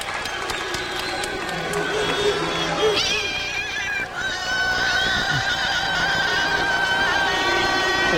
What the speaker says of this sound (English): the crowd shows their appreciation.